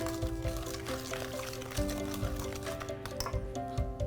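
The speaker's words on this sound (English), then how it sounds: "Stir all that together." A wet, sloshing stir runs steadily through a bread pudding mixture of eggs and sugar, repeated in quick rhythmic strokes. Steady tonal music plays underneath throughout.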